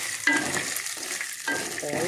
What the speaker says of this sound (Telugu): ఇదిగోండి పోపు ఈ విధంగా వేగుతుంది